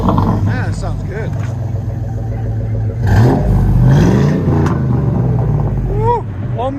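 A truck engine with a Flowmaster Super 10 exhaust idles with a deep exhaust rumble, then revs up and back down a few times, with voices talking over it.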